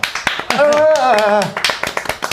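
Players around a Dungeons & Dragons table clap sharply and repeatedly after a natural 20 roll, the clapping loud and close and mixed with excited voices.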